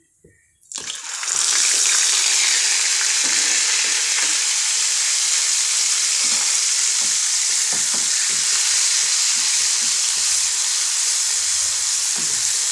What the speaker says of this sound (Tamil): இப்போ நம்ம இதோட இந்த வெங்காயம் பேஸ்ட்டை போட்டுக்கலாம்.